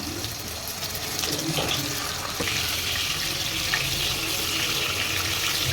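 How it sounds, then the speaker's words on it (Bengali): A steady, hissing sizzle of koi and magur fish frying in hot oil in a wok fills the clip, loud and continuous with faint clatter underneath. "তেলের ভিতরে মাছটা দিয়ে দিলাম"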